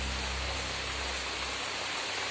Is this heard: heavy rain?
yes